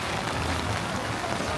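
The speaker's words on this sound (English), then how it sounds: "wow, it is raining" Steady rain falls over New Orleans Square at a theme park, a dense, even hiss of drops on hard surfaces close by with no voices on top.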